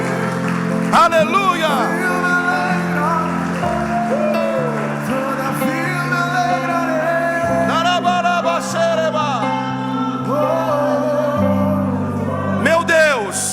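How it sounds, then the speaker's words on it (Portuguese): A church congregation claps and cheers during a Portuguese-language worship service, with loud bursts of shouting and applause rising over a preacher's voice and background music. "Aplauda o Senhor bem forte."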